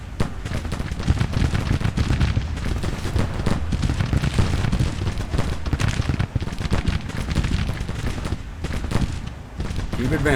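Dense, continuous battlefield gunfire and booming in a Civil War strategy game, artillery and musketry rolling together at a steady loud level for the whole stretch, with some speech mixed in.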